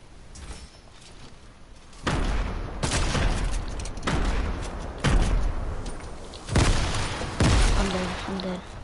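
Grenade explosions and gunfire from a video game shooter, heavy booming blasts repeating roughly once a second over a continuous rumble of battle, loud and close.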